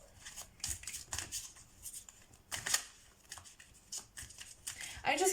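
Oracle cards shuffled and drawn by hand, giving brisk, repeated papery riffles and flicks in short bursts, close and moderately loud.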